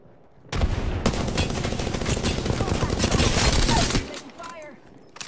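Rapid automatic gunfire in the video game Apex Legends, a dense, loud burst of overlapping shots lasting several seconds before cutting off abruptly, followed by quieter scattered game sounds.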